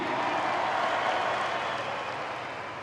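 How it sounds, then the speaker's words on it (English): A crowd at a supercross event claps for a rider, producing a broad wash of applause that holds steady and then fades slightly toward the end. "So can you please give a big round of applause for Ella Mackey?"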